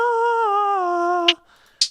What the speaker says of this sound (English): that sound is a synth from Analog Lab